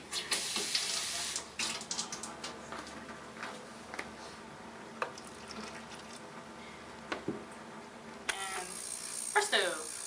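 Tap water running into a jewelry-cleaner sonicator in a lab, a steady close splashing stream with small clinks and knocks, then a louder burst of pouring near the end.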